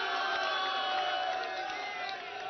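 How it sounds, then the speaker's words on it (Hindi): A large crowd at a televised political debate event in Ujjain applauds and cheers, a dense steady roar of clapping and voices at constant loudness. "जोरदार तालियां खुद के लिए बजा लीजिए"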